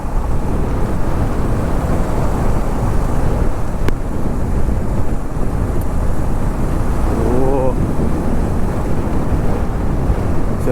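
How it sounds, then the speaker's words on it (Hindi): Heavy wind buffets a rider on a Honda CB350 motorcycle, a loud constant roar rushing over the microphone, with the engine faint beneath and a voice talking through it. "विंड ब्लास्ट ज़बरदस्त आ रहा है मुझे"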